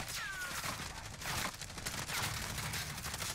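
Gunfire in the Warzone video game on Rebirth Island, with sniper fire among dense, continuous bursts of shots and in-game battle noise throughout.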